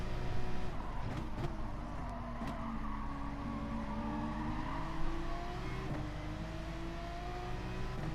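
Race cars in GT Sport, including a Porsche and a Volkswagen Vision GT, accelerate along a straight, several engine notes rising in pitch together at a steady, moderate level, with faint tire noise and no voices.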